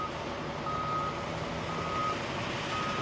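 A truck's intermittent reversing beeps sound at a distance over a heavy, constant engine rumble at a sand pit in a yard where trucks are loaded with sand, with no speech.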